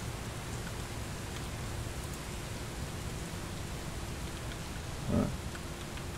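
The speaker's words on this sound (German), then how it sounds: "Und es regnet und es scheint dunkel zu sein." Steady rain hisses evenly through a city drive in Bus Simulator 18, a constant wash of noise with one short low bump near the end.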